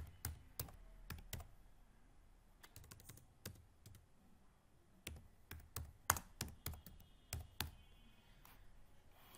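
Someone types on a computer keyboard in quick irregular bursts of crisp clicks and taps, close and fairly quiet, with short pauses between runs of keystrokes.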